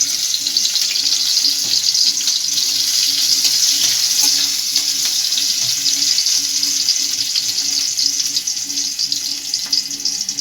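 Chopped ginger and garlic frying in hot white oil, a loud, continuous bright crackling sizzle with small pops that stays steady the whole time, with no voices.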